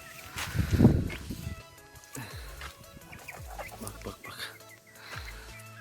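Young Sultan and İspenç chicks, about two and a half months old, cluck and peep in a coop, with short scattered calls after one louder burst of noise near the start.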